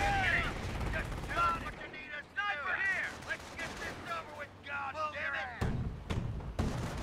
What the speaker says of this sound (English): Bases under enemy fire.